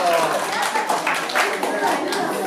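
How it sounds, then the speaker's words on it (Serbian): A small audience claps at a poetry gathering, a short burst of scattered applause with a voice talking over and around it. "Bravo, jedan aplauz."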